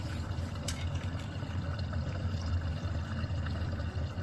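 Water pours and drains steadily down a newly replaced bathtub drain, a close, continuous gurgling rush with a low rumble and no pauses.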